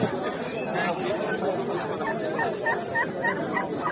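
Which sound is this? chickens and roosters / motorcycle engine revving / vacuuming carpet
chickens and roosters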